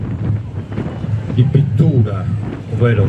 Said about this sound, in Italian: devo raccontare un vento come questo che viene qui a sconvolgere la nostra serata